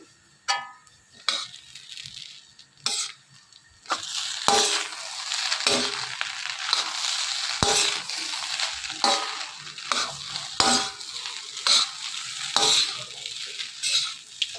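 Egg fried rice with red chilli sauce is stirred in a hot pan: a steady sizzle broken by repeated sharp scrapes and clinks of a spatula against the metal, close and without talk.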